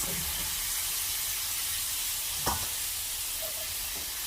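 Fresh green beans dropped into sizzling butter in a hot pan give a steady loud frying hiss, with a sharp clatter midway and light stirring noises.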